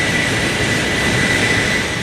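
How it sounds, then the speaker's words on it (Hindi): Stratolaunch, the world's largest aircraft, roaring on its first flight takeoff: a loud, steady broadband engine rumble and whoosh holding constant throughout, with no voices. "दुनिया के सबसे बड़े हवाई जहाज ने जब पहली बार जमीन को छोड़कर आसमान को चूमा"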